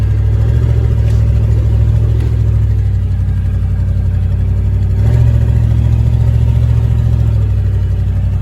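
An engine running hard on fuel that is mostly used motor oil gives a loud, steady drone close up, with a brief surge partway through before settling back.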